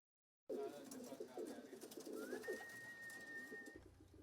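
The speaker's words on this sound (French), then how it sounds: "Et nous allons honorer le pigeon." A pigeon coos softly in a low repeated murmur under faint background noise, with a thin steady whistle partway through.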